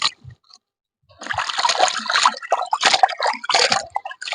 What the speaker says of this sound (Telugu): చికెన్ అయితే శుభ్రంగా కడిగేసుకుందాం నీళ్ళు వేసుకొని